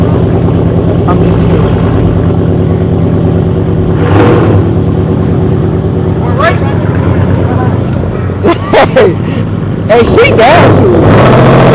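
Several Mopar muscle cars rumble loudly and steadily with deep low engine drone, swelling into sharper revs near the end, while people talk and call out over the noise.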